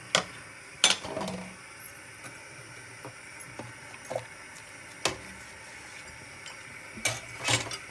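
A spoon stirs a cornflour slurry into milk for homemade vanilla ice cream, giving sparse clinks and soft scrapes against the bowl over a quiet background.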